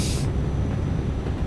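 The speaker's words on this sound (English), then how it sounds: "Can hear a train." A train rumbles past in the Euro Truck Simulator 2 driving game, heard as a steady, loud low roar with a brief hiss at the start.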